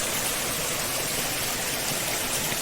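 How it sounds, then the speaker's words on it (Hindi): Water flows along a forest trail on the Deoria Tal trek from Sari village in Uttarakhand, giving a constant, dense rushing sound. It is close and steady throughout, with no voices. "ये देखिए पानी बह के जाता हुआ रास्ते पर"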